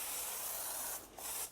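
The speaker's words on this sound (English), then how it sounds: "I'm just going to give it a light spray of this" A Quasar Venus foaming sprayer gives a light spray of upholstery cleaner, a soft close hiss lasting about a second, then a short pause and a second brief burst.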